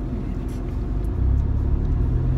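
A 2012 base-model Nissan Micra 1.2 with automatic gearbox drives along, its steady low engine and road rumble holding throughout and swelling slightly louder partway through.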